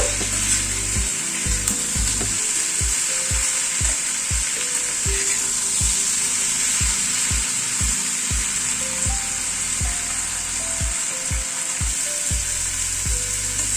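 Pumpkin pieces frying with ginger and green chili in a pan, a loud continuous sizzle with regular low knocks and scrapes of a spatula turning them, heard up close for over ten seconds without speech.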